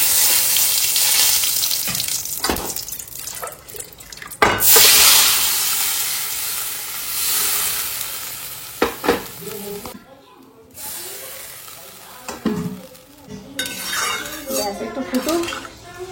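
Five-spice, dried chili and cumin fry in a little oil in a home kitchen pan, with a loud sizzle surging and fading, utensils clinking and scraping against the pan throughout.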